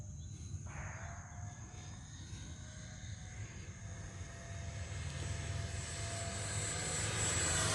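A Freewing L-39 Albatross radio-controlled jet with an 80mm ducted fan cruises at half throttle, its steady whining drone carrying from a distance and growing gradually louder toward the end.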